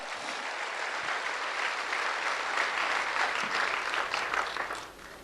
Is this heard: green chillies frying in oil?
no